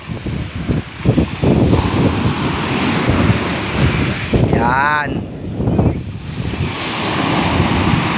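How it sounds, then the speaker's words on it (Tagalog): Strong ocean surf at a beach rushes and crashes continuously, buffeted by wind noise on the microphone, while people talk and shout over it. "Ang lakas ng alon, gago."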